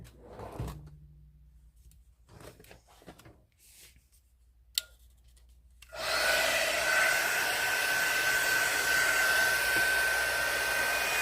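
A hair dryer blows on sticky Mix2Mold ceramic resin casting, switching on after a few quiet seconds of small clicks and handling taps, then roaring loud and steady at close range.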